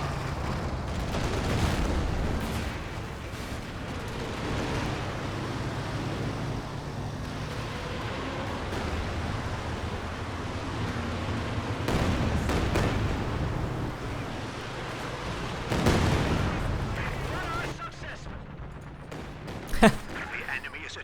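Artillery fire and flares in a real-time strategy game, a run of low rumbling booms and blasts rolling under continuous commentary, with heavier bursts around the middle and near the end.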